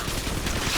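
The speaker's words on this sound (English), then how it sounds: "the shotgun's so much louder than my other guns" Shotgun fire from the video game BioShock, heard as a loud, thick roar of overlapping blasts in a short burst with no break.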